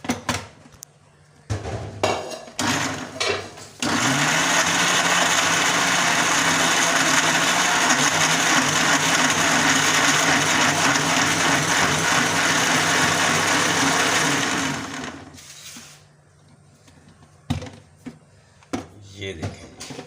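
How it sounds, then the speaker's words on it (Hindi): A mixer grinder roars continuously for about eleven seconds at close range, grinding ingredients into a paste in its jar, with short bursts and clatter before and after. "इसको अब कर लेते हैं मिक्सी के जार में डाल के"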